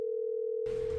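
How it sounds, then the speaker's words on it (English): Telephone tone: a steady, clear electronic tone held for the full second, joined by a burst of hissy line noise in the last part. "I rang the phone, then I stopped and waited for someone to talk"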